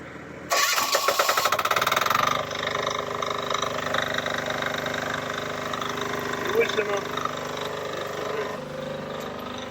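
A generator engine, idle for a year and a half, cranks and catches, with a loud starter burst that settles into a steady mid-pitched running hum close by.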